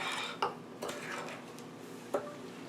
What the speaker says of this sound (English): just mix this real good